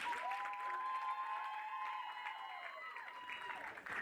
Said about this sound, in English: We applaud Faithful Chiwaura for her achievement in travel and tourism